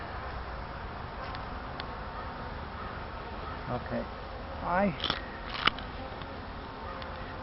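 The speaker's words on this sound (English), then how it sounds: "there's a fair number of bees here, but it's not really what I would call a strong hive." Steady buzzing of many honey bees at a hive being inspected, a dense continuous drone with brief louder passes, and a voice speaks briefly.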